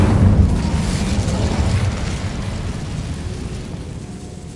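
The Incendio fire spell is cast in Hogwarts Legacy, a loud roaring whoosh of flame that starts strong and slowly fades over several seconds, close and without speech.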